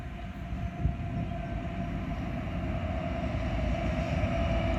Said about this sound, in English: Here we got a westbound at Oak Harbor, and it's intermodal.